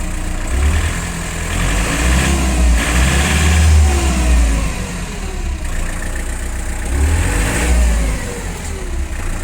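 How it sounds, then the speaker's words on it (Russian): A mini tractor with a cab, fitted with a fairly large engine, starts and revs with a loud, close diesel roar that rises and falls in several throttle bursts above a steady idle rumble. "Мотор достаточно большой, трактор очень мощный,"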